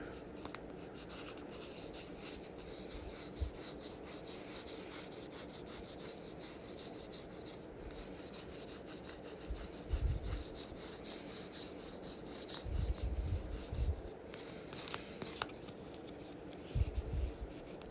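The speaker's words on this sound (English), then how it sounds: "Just getting these smoothed and polished just like you would on frets on the fretboard." Grooves in the nut of a Hofner Beatle bass being smoothed and polished for flatwound strings, producing a quiet, continuous rubbing and rasping with a few slightly stronger scrubbing strokes near the end.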